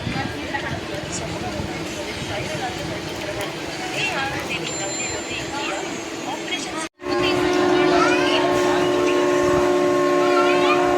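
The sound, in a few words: express train departing with horn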